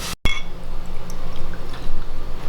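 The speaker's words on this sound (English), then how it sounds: "I'm pouring myself some more of the Meiju, the beer" Cass beer glugs and fizzes as it is poured into a glass, a continuous close-up liquid rush after a brief sharp clink, with no talking.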